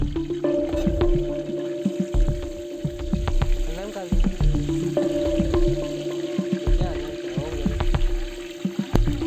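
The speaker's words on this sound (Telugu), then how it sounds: "ఇట్లా వేసుకొని కొద్దిసేపు ఒక టూ మినిట్స్ మనం దీంట్లోని ఫ్రై చేసుకోవాలి" A large batch of bay leaves fries in oil for bagara rice cooked for 150 guests, a busy sizzle with stirring knocks and scrapes, mixed with an outdoor hum and indistinct background voices.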